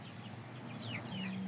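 Indio chickens cluck softly in a coop, a few short calls over a steady low farmyard hum, fairly faint and without speech.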